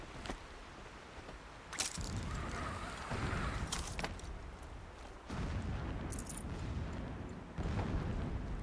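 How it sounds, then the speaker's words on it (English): Distant explosions in the video game Horizon Zero Dawn thud and rumble as several deep booms and sharp cracks over a steady low wind-like background, fairly faint. "Explosions in the distance."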